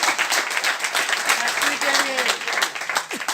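Audience clapping at a company seminar, a brief burst of steady applause from a crowd, fairly close, with a voice talking faintly over it.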